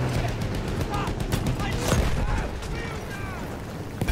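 Rapid gunfire in the Battlefield 1 video game, sharp bursts of shots and booms on a chaotic battlefield, with soldiers shouting in between.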